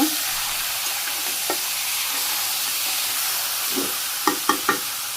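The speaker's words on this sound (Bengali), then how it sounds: "জিরের গুঁড়ো দিয়ে মাখিয়ে নিয়েছিলাম ভালো করে কষিয়ে নিই মাংস" Goat meat coated with cumin powder sautés in a pot with a constant hissing sizzle. Light stirring and scraping run under it, and a few sharp clinks of a utensil against the pot come near the end.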